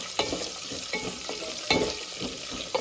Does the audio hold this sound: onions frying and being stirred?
yes